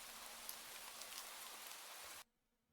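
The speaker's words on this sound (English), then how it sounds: "in the middle of your walk it starts to rain" Steady rain hiss falls in a video game as the walk begins, a dense broadband patter that fills the scene evenly, then cuts off abruptly near the end into near silence.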